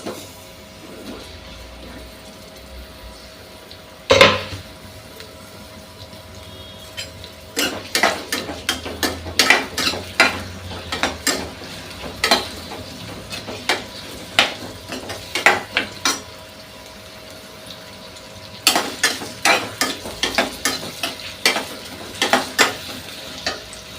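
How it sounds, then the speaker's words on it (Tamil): Onions fry in hot oil in a home kitchen, with a low continuous sizzle under bursts of rapid metallic scraping and clinking as a spatula stirs them, pausing briefly between rounds. "இப்போ நம்ம எண்ணெய் காஞ்சிருச்சு, நம்ம வெங்காயத்தை போட்டுக்கலாம்"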